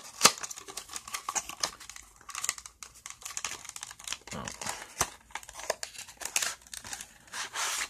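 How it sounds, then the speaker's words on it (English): Packaging for a phone ring holder being opened from the bottom, close crinkling and tearing with scattered sharp clicks and rustles, a voice speaking in places. "Now, I'm going to open it through the bottom because I don't feel like dealing with stickers."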